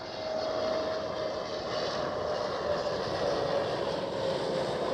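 An EasyJet airliner at Amsterdam Schiphol Airport gives off a steady, loud broadband jet roar with a faint whine, sustained evenly with no voices.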